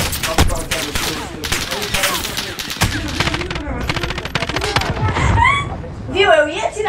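Rapid video game gunfire in Free Fire, bursts of automatic shots crackling loudly at the start and recurring throughout, overlapped by a young player talking excitedly.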